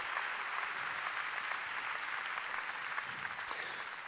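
Audience clapping for performers at a church event, a steady, even wash of applause held throughout, fairly loud with no talk over it.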